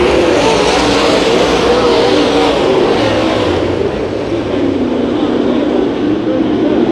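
Race cars in a heat race at Santa Maria Raceway roar continuously at full throttle, a loud dense engine drone that stays steady throughout with faint voices beneath.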